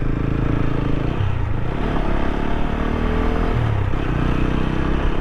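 A 2022 TVS Apache RTR 200 4V motorcycle engine hums steadily and loud up close, with low rumble and a couple of short revving swells on a ride through town, no talk.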